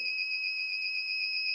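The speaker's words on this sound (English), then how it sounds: "an extended beep and a short series of beep because the secondary door starts to open" An automatic door controller gives one extended, steady, high-pitched electronic beep as the secondary door begins to open, clear and continuous at close range with no talking.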